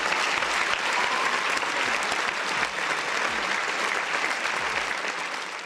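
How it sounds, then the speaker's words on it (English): A big round of applause fills the space, steady dense clapping from a group throughout, fairly close and even in loudness, with no talking over it. "Big round of applause."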